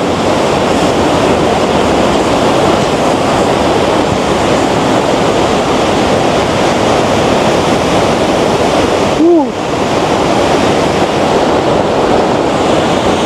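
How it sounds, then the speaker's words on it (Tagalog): Pagsanjan Falls in the Philippines pours in a loud, unbroken roar of rushing water, a dense wash of noise heard close up that fills the whole scene without letting up, with only a brief dip near the end. "Grabe, ang laki ng falls."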